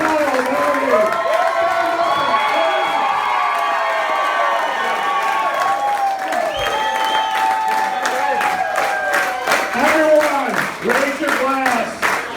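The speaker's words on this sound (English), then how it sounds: "Stand up and clap." Wedding guests applauding, sustained dense clapping with cheering and shouts from a crowded reception room, loud and continuous with a voice over the applause.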